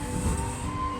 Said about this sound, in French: c'est le camion poubelle qui passe dans la rue.